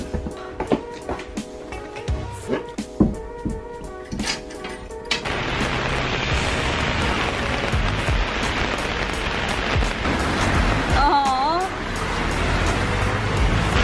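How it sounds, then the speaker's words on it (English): Steady rain falls on a surface as a dense, continuous hiss. It starts after several seconds of other sound with sharp clicks and tones, then keeps going with a passing whistle-like chirp. "It's raining."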